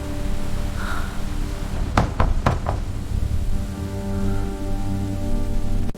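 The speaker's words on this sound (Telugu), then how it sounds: "బయట వర్షం హోరులో తలుపు మీద గట్టిగా శబ్దం" Several loud, heavy knocks strike a door in a quick cluster at midnight, standing out sharply against the steady hiss of pouring rain outside.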